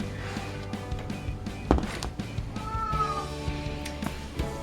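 A cat meows indoors, one clear cry standing out over quiet room noise, with a few softer sounds around it.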